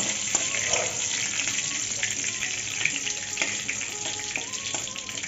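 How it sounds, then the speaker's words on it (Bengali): Fennel seeds and whole black peppercorns fry in oil in a pan, making a continuous crackling sizzle with faint stirring taps throughout. "মৌরিটা একটু ভাজা ভাজা হয়ে গেছে।"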